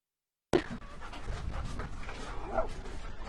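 Dogs making short barks and whimpering noises nearby after a sudden start, with scuffling and movement sounds, no speech.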